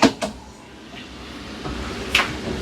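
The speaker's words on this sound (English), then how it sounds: "Now with the double doors, we can close our stationary door," Stationary bathroom door in a 2025 Midwest Automotive Designs Heritage Sprinter van swung shut and locked, giving a quick close thump followed by a couple of sharp latch clicks, fairly close and alone.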